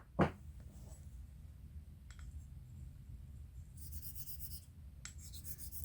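A straight razor is honed on a Belgian Coticule stone, giving soft, faint scraping strokes with a sharper click near the start and a few brighter raspy passes later, all close and quiet.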